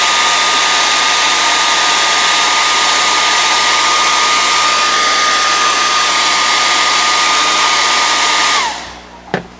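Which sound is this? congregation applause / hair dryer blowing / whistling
hair dryer blowing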